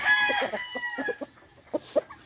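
An escaped junglefowl rooster crows close by, followed by a few short clucks and chirps against a quiet outdoor background.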